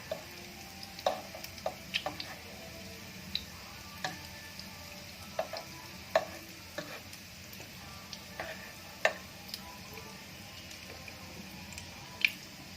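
Breadcrumb-coated bread rolls fry gently in a pan over low heat, a soft steady sizzle dotted with small irregular pops and crackles, quiet and close with no talking.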